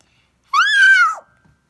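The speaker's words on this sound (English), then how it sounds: "Oh no, it's the cat!" A farm cat lets out a single loud, drawn-out meow that rises and then falls, lasting just over half a second, with no talk and near silence before and after it.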